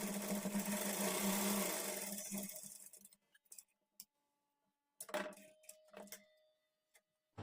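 A sewing machine stitching a blouse runs in a dense steady whir that fades out, followed by a few scattered short mechanical clicks and bursts.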